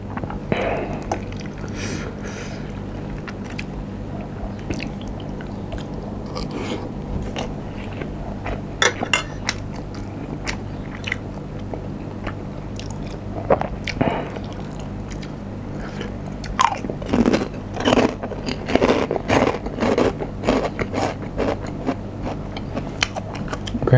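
Someone chewing and biting mouthfuls of stir-fried pork with egg, close and fairly quiet, soft wet crunches and squishes repeating irregularly with sharper bites toward the end.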